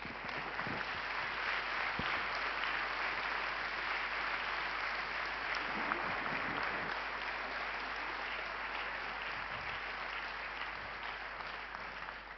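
An audience at a memorial pleading competition applauds warmly, a steady, dense wash of clapping from many hands sustained evenly throughout, slightly distant in a hall.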